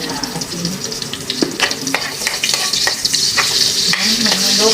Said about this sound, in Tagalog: Ilagay ko na ang bawang, guys.